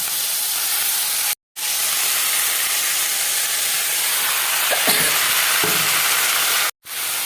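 Spinach tossed into hot white oil tempered with five-spice seeds gives a steady, loud hiss and sizzle, with a few brief pops partway through and two short silent breaks.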